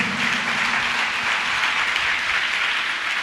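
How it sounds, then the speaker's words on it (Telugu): A church congregation claps loudly together during a Sunday service, dense, steady applause filling the room for the whole stretch without a break. "చప్పట్లు కొడతాం అందరం గట్టిగా,"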